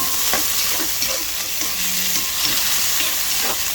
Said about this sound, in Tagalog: Ang bango mga kagigil talaga ng bawang at sibuyas pag ginigisa